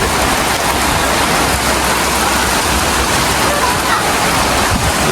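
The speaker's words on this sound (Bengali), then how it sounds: "ये বৃষ্টি ভালোই বৃষ্টি হচ্ছে" Heavy rain pours down in a village, a dense, steady hiss of water with no breaks, loud and close throughout.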